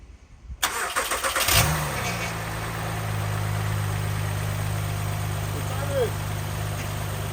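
A 2010–2013 Acura ZDX V6 engine cranks briefly and catches after a timing belt, water pump and pulley replacement, then settles into a smooth, steady idle, close by, while people talk over it.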